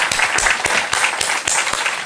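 Audience applause for a guest speaker after a lecture, a brief burst of close, crisp clapping from many hands in a hall, with no voices over it.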